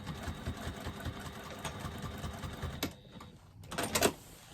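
A sewing machine runs a second row of stitching along a lined flap, giving a steady rapid mechanical whir close by that stops near the end, then a brief burst of handling noise.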